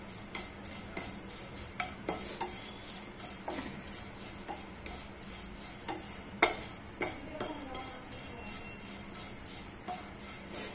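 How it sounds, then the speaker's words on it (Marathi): Vermicelli roasting lightly in a little ghee for rice kheer, heard as a faint, soft sizzle under regular light ticks and scrapes of a spoon stirring against the pan. "आता हे शेवया हलकेशा भाजून घ्यायचे अशा तुपात."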